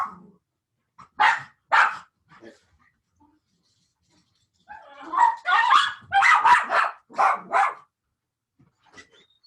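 A dog barks indoors as a doorbell alert, two sharp barks followed by a short pause and then a rapid burst of about seven barks, fairly close and with no talking.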